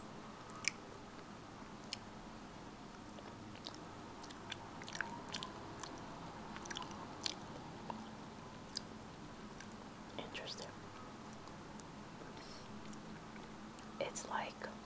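Soft, close chewing and squishing of a thick Japanese jelly snack with a mung-bean taste, with small wet bites and crunches scattered throughout at whisper-level volume, and faint whispered talk in between.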